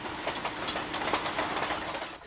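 Steam locomotive of a batch of US Army Transportation Corps engines sent to Poland in 1945, running on rails: a brief, even stretch of rhythmic chuffing and hissing heard from a moderate distance.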